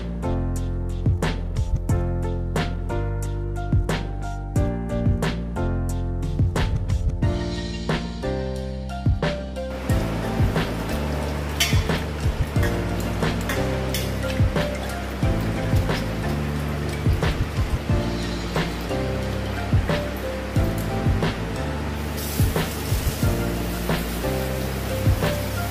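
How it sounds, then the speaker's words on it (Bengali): Red amaranth leaves are washed in water, giving a rain-like patter and splashing that runs throughout beneath steady background music. "এবার আমরা ধুয়ে নেব লাল শাক।"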